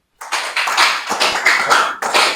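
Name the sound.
audience clapping for a speaker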